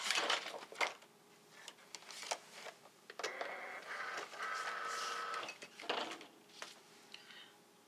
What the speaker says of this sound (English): And because I'm using the Cricut Explore 1, I'm going to have to change the pen. But first we got to change this back to cardstock. And we got to load the mat.